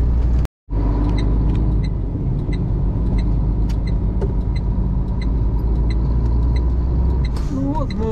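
A vehicle cruises along a road toward Warsaw, a steady low engine and tyre rumble continuing throughout, interrupted once by a momentary dropout near the start, with faint road noise.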